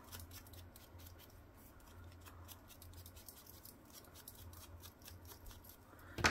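Paper cut out with scissors for a planner, a rapid run of quiet snipping and rustling strokes over a faint background hum, with a louder paper rustle at the end.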